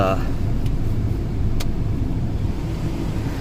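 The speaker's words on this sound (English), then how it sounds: "the car's been running for a little bit" A 1995 Cadillac DeVille with the 4.9-liter engine idles steadily, a low, even hum under a faint click or two, with no speech in the clip.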